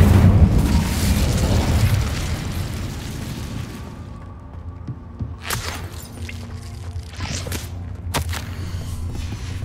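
The Incendio fire spell from Hogwarts Legacy gives a heavy whooshing, roaring burst that fades over a few seconds. Sharp cracking pops follow over a low rumble.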